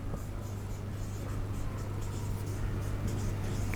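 Pen or marker writing on paper during a 10th-class algebra lesson on linear equations, a steady scratchy rustle running throughout over a constant low hum, close and moderately quiet.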